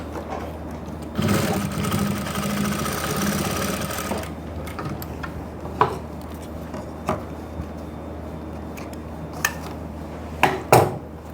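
A sewing machine runs in one close, steady burst while stitching elastic-back pants. Scattered clicks and handling taps of fabric and tools follow, with no talking.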